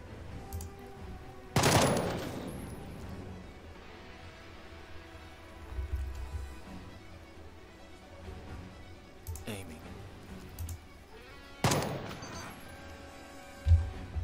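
Gunfire from the video game Jagged Alliance 3 during a boss fight: loud, sharp bursts at about 1.5 s and 11.5 s with smaller shots between, over background game sound and someone talking.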